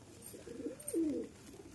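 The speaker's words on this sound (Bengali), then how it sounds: "6 পিস কবুতর আছে" A pigeon gives a single soft, low coo, rising and falling over about a second, with faint background hiss.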